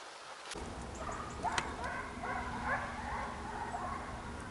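Hunting dogs yip and whimper at a distance, short high cries over a steady outdoor noise.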